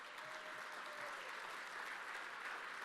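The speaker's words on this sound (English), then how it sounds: "let's give SCI a round of applause" A banquet hall audience at a university awards dinner applauds the evening's presenting sponsor, a steady, soft wash of many hands clapping at a distance for about three seconds with no voices.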